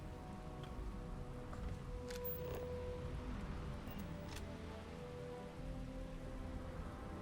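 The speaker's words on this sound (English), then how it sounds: "Why are you standing out here in the rain?" Steady rain falling in the video game Starfield, a continuous soft hiss of drops spattering on surfaces, with a few brighter isolated drips standing out against the even wash.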